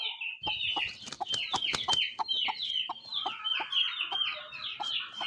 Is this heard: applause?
no